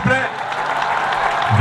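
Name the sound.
audience cheering and applauding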